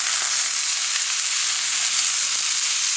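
Cabbage slices searing in a hot pan for a garlic Parmesan dish give off a steady, even sizzle that holds at the same level throughout, with no talking.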